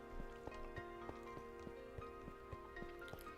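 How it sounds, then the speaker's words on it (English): Rain in Minecraft, a steady soft patter with faint regular drip-like ticks repeating throughout, quiet and even with no talk. "It is raining."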